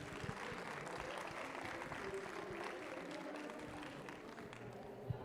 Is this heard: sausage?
no